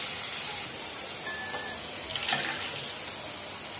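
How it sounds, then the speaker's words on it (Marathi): Water is poured into a simmering drumstick (moringa pod) curry, giving a soft, steady splashing pour that runs faintly and evenly throughout. "आपण पाणी ऍड करूया,"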